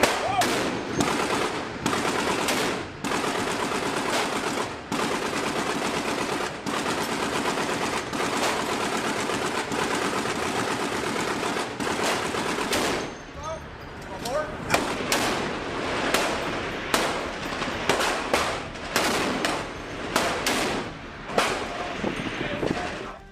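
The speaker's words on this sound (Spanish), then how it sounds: "Ese rifle antimaterial permite dejar fuera de combate los botes, ya sea destruyendo el motor o eliminando brutalmente a los tripulantes." An anti-materiel rifle fires at a target boat during anti-piracy testing at sea, with rapid repeated heavy shots in bursts. Loud and close throughout, followed by sparser, separated reports.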